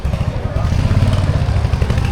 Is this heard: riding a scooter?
yes